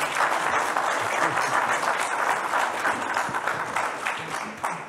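An audience at a political party congress on Central African issues breaks into sustained applause, thick continuous clapping that stays loud throughout and eases off slightly near the end.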